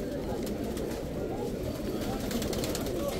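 Pigeons at the Kasra bird market in Adhamiya, Baghdad, coo close by amid constant market bustle, with people talking in the background.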